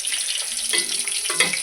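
Fish pieces fry in a pan, a steady bright sizzle with a couple of soft stirring scrapes, close and moderate in level, with no one talking.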